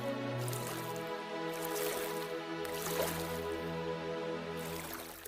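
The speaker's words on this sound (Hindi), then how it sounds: "फिर दोनों पानी के अंदर आगे की तरफ चल देते हैं।" Cartoon characters wade forward through pond water, giving soft, continuous squishing and dripping splashes beneath a sustained tonal background, steady in level for several seconds.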